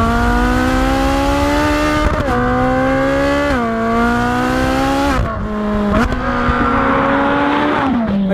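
A Ferrari 458 Speciale Aperta's 4.5-litre naturally aspirated V8 revs hard and loud up close, its rising howl broken by quick gear changes into a series of climbing pulls.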